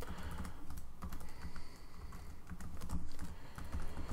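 Rapid keystrokes on a computer keyboard while writing SQL, close and steady and somewhat faint, with short pauses between bursts of clicks.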